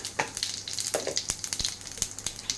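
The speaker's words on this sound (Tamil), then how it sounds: "கடுகு நல்லா பொரிஞ்சு வரட்டும்." Mustard seeds crackle and pop in hot oil for a mutton gravy, giving sharp, irregular spluttering bursts over a steady sizzle, close by and fairly quiet, with no talking.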